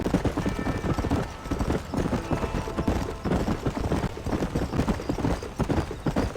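Horse hooves clip-clop in a steady galloping rhythm throughout Red Dead Redemption, loud and close, with a brief whinny mixed into the constant hoofbeats.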